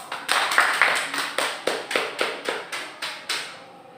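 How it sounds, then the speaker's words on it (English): A classroom audience claps in a steady, evenly spaced run of about a dozen sharp claps that grows slightly fainter, with no talk. "please give them a round of applause"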